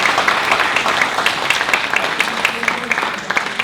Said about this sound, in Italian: Voglio fare un applauso alla